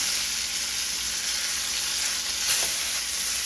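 A flipped lamb shoulder sears in a hot pan with a loud, continuous sizzle. A brief flare of crackle rises near the end, and no one speaks.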